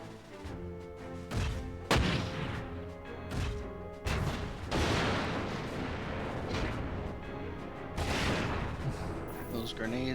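Grenade explosions in the video game Front Mission 4: repeated sharp blasts at irregular intervals over a dense bed of combat noise and music, with a voice talking underneath.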